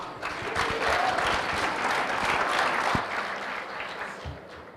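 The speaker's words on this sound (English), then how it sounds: "Let's clap for her." A hall audience at a youth capital market forum in Kigali claps for a speaker, a dense, steady wash of applause that holds for several seconds before thinning out near the end.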